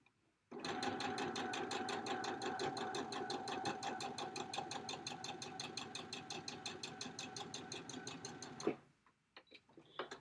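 Sewing machine running continuously as quilt pieces are sewn, a close, steady rhythmic chatter of needle strokes that stops near the end, followed by a few faint clicks and handling sounds.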